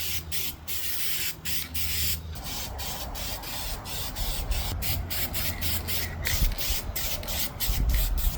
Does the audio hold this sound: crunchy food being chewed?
no